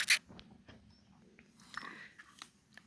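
Horse biting into a piece of apple, a sharp crisp crunch at the start followed by softer chewing and scraping sounds, close and quiet.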